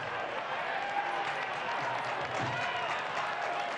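Stadium crowd at a Detroit City FC versus Louisville City FC soccer match, a steady broad roar of applause and cheering held throughout, loud and continuous with no single voice standing out.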